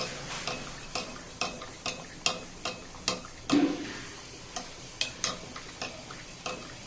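A spoon taps a container in a steady rhythm of light, evenly spaced clicks while honey is stirred into juice. The sound is faint and close, with no talking.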